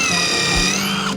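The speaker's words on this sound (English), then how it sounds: "What I'm doing here is drilling the holes in the brace" A power drill runs steadily, boring holes through an ash wood brace for a walnut door, a close continuous whine with no pauses across the short moment.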